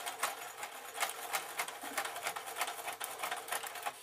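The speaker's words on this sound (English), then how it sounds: "Sewing machine complaining a bit because we're going over four layers of leatherette" Sewing machine stitching through four layers of thick leatherette for a pencil case, a fast steady run of needle punches with a slight labouring strain, close and fairly quiet, with no talk.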